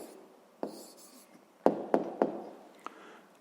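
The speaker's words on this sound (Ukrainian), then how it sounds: "записуємо тут відповідь" A pen writes an answer by hand on paper, giving a few quick close taps and scratchy strokes in a quiet room.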